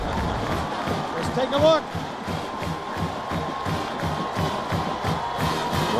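A college football stadium crowd roars at a Miami versus Louisville game, a broad sustained cheer with a brief louder surge, heard beneath a commentator's voice.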